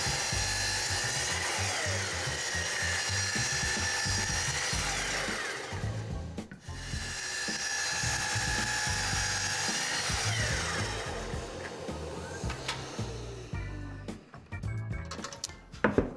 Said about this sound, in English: I can go ahead and take it over to the Capex and cut them to length